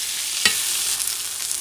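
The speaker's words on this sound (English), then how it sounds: "Once you have them sauteed to your liking, maybe 2 or 3 minutes" Onions sauté in a pan with a soft, steady sizzle and a single scraping stir near the start, close and fairly quiet, with no voices.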